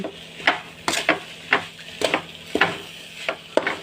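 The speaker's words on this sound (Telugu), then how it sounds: "దీన్ని కొంచెం దగ్గరుండి మాడకుండా తిప్పుతూ ఉండాలండి గంటతోటి" A coconut and jaggery laddu mixture is stirred in a pan, with about eight rhythmic scraping strokes ringing against the metal over a faint frying hiss, close and fairly loud.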